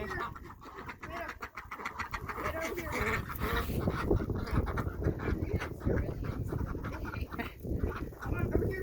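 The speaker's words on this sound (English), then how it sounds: "Those are my nephew's chickens and ducks." Chickens and ducks on a farm, with clucking and quacking scattered through a noisy outdoor scene, moderately close, mixed with people talking.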